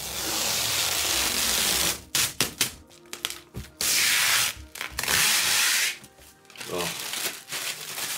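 Protective film is peeled off a new drawing light pad in several quick crackling, tearing pulls with brief pauses between them, close to the microphone, and one short vocal exclamation.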